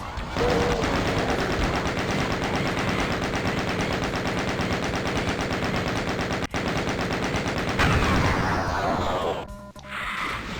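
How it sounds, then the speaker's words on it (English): Rocket launcher blasts and explosions against monsters such as a Mancubus in the DOOM video game fill the scene with continuous loud, dense gunfire and crashing impacts that fade out near the end. "get your rocket launcher out, and take out this Mancubus"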